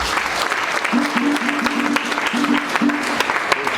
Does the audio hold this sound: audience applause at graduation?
yes